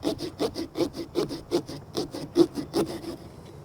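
Cutting out the second eye of a homemade Halloween decoration: a quick, regular series of about a dozen short rasping cuts, close and fairly quiet.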